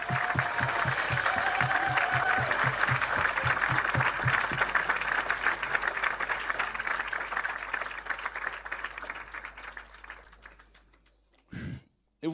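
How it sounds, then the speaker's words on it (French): A church congregation applauds and acclaims the Lord in loud, sustained clapping that swells from a crowd, with rhythmic music pulsing underneath early on, then gradually fades away toward the end. "on veut acclamer le Seigneur"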